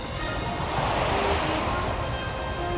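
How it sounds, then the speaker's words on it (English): Rushing water from a waterfall in the video game Zelda: Tears of the Kingdom, a steady, dense broadband roar holding at an even loudness for the whole stretch, with no breaks. "The waterfall is back to normal too"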